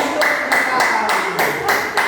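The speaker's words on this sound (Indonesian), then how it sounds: "Kasih tepuk tangan dong." A classroom audience at a teacher-training session gives steady, dense applause from start to end, loud and close, with no break.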